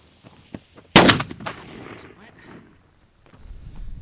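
A single loud, sharp blast from an Indian-made military musket during a proof firing with a 300-grain charge of 4F black powder, followed by a decaying rumble and low background murmur.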